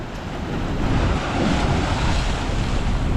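Strong sea waves surge and crash against a boat off Rapu-Rapu, a loud continuous wash of surf heard up close with heavy wind buffeting the microphone and no talking.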